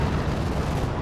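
A strafing run in Company of Heroes 2 sends a dense, loud roar of rapid gunfire and rumbling impacts across the battlefield, continuous and heavy for about a second.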